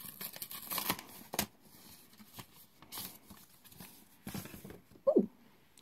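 Paper envelope being opened, with close crinkling and tearing rustles coming in several bursts, ending in a sharper rip.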